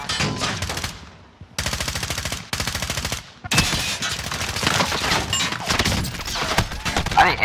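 Rapid bursts of automatic gunfire crack out in Call of Duty Warzone from a shooter firing upstairs, loud rattling strings broken by short pauses, with voices talking over it.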